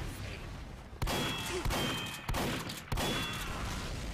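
Shotgun blasts from a Soldier in Team Fortress 2, four sharp, loud shots spaced roughly a second apart amid busy game noise, with a player's voice around them.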